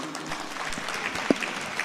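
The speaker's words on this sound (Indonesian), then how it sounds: "tepuk tangan sekali lagi" A live audience at a political dialogue event gives another round of applause, a steady stream of many hands clapping at moderate volume, with one sharper clap standing out near the end.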